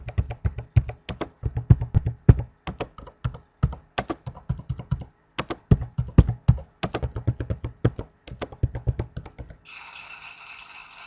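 Fingers type steadily on a computer keyboard during a typing tutor lesson, a close, rapid run of crisp key clicks in uneven bursts that stops abruptly near the end.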